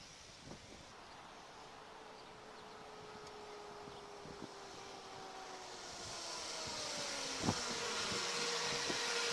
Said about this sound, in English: you've gotten the fan to kick on